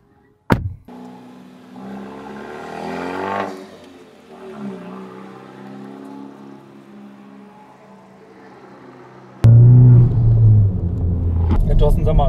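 A 2016 Honda Civic Type R pulls away with a low engine rumble rising and settling under ongoing conversation inside the car, with a loud thump at the start and heavier rumble later.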